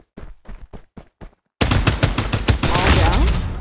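Gunfire in the video game Farlight 84: a dense, loud burst of rapid automatic shots that carries on without a break, preceded by a short spoken voice line over silence.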